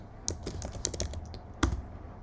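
Close computer keyboard typing, a quick irregular run of crisp key clicks with one louder tap near the end, no talking.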